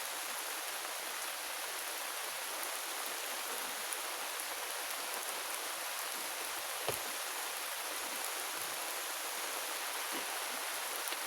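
Steady rain falling, a continuous even hiss of drops with no breaks, fairly faint and with no one talking.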